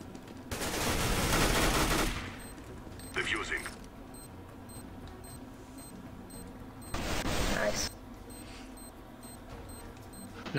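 Bursts of automatic gunfire in CS:GO, a long loud spray, a short burst, then another sustained burst, with quieter game ambience in between and a player's voice heard over it.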